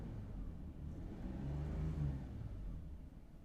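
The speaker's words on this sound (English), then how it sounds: "let's just rev it real quick" Toyota 1FZ-FE inline-six engine revving at idle: a steady low rumbling drone that swells briefly in the middle and settles back, close by and alone with no talk.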